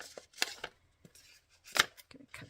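Scissors snip a card file folder in half in a card-making craft session, several sharp separate cuts at an uneven pace, close and fairly quiet, with a little handling noise between them.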